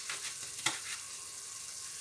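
Onions cook with garlic salt in a hot pan, a steady close sizzle and crackle with a single clink of a utensil against the pan and no voices.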